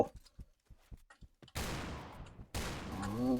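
Gunfire in the Point Blank video game: a few faint clicks and taps give way to two loud, close bursts of rapid automatic fire that roll on and crowd out everything else.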